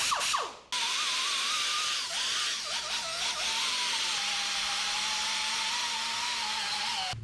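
A grinder smooths down weld beads on the body of a 1973 Chevrolet. It gives a steady, loud, high whine that starts after a brief spin-up and holds nearly constant for about six seconds, with no talking.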